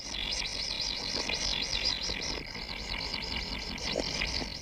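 A continuous chorus of high, buzzy kingfisher chick calls from inside the nest, trilling without pause, steady and moderately loud, mixed with faint background noise.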